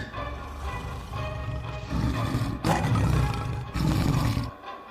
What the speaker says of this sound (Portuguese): Pois aquele monstro começou a rosnar.